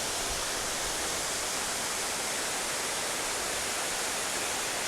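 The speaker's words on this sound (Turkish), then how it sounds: "Ben geldim şelalenin oraya." A waterfall at Kardüz plateau in Düzce on a rainy day roars as a dense, steady wash of noise, constant and close with no voices.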